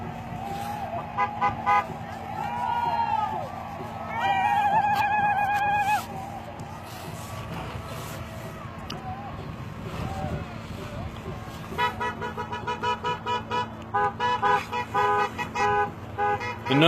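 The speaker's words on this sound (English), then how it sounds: "The noise you hear is people going back in cars for medical and trying to clear the road to get back to camp." Cars on Highway 1806 honk repeatedly during a November 2016 road clearing, with horn bursts near the middle and a rapid series of toots toward the end over steady traffic rumble and voices in the background.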